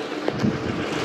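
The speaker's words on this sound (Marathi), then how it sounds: "काय एवढं वारा लागतो?" Strong wind buffeting the microphone outdoors on the way to a beach in Malvan, a loud, steady roaring rumble for about a second, with no voices.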